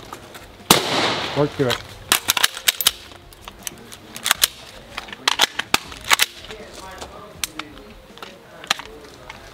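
Gunfire from an AR-15 and sidearm during a training drill: a loud, close shot, then a rapid string of sharp cracks with short pauses, mixed with an instructor's spoken commands.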